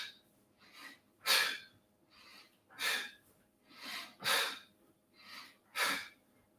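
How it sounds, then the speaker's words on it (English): Forceful exhales push out during a yoga abdominal exercise, a series of sharp breathy bursts repeating about once a second with softer breaths between, close and clear with no talk. "Every time you come up, push the air out."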